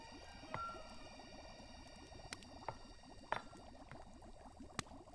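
Thick liquid churning and bubbling in a vessel as a potion is stirred in an alchemist's shop, a steady low wet gurgle with a few sharper clinks and drips, quiet and close with no voices.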